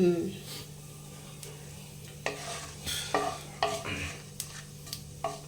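Cumin seeds and dried red chillies crackle in hot oil as a tempering, with a handful of sharp sizzling bursts and stirring scrapes over a steady low hum, close by.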